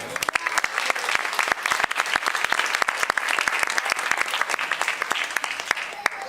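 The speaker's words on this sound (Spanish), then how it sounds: "Denle un fuerte aplauso al Señor." A church congregation gives a loud, sustained round of applause, many hands clapping in a thick, continuous wash with sharp individual claps standing out near the front.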